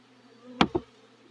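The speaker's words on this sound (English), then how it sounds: "See all the bees come off? The ones that fly, see how most of them are flying." A bee buzzes past close by in two quick swells as bees fly off a hive frame in early spring, with a faint steady hum behind it.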